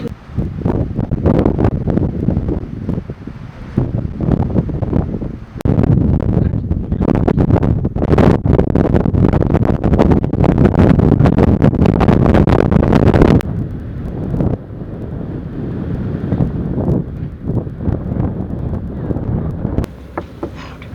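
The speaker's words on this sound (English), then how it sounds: "the strongest wind comes from the southwest" Strong wind buffeting the microphone on the deck of the Regent Seven Seas Mariner cruise ship in South America, a loud continuous roar that swells and drops in gusts throughout, with no clear talk.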